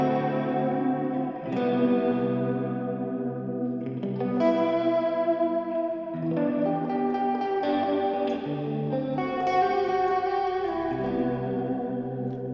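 Guitar chords run through the plex delay effect of an Axe FX 3, swelling up front into a dense, shimmering wash of overlapping repeats, with several new chords struck across a steady, loud, effects-soaked bed and no talking.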